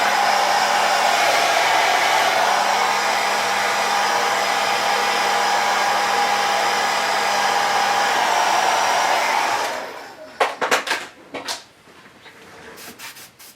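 A hair dryer blows on fresh paint on a garage kit resin bust in a long, steady, loud whir. It cuts off near the end, followed by a few light handling clicks and knocks.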